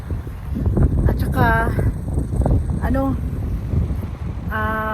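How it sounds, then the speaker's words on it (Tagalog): Steady loud rumble of strong wind buffeting the microphone throughout at Obara Beach in Katsuura, Chiba, Japan, with a person talking over it. "Medyo malakas nga lang yung hangin."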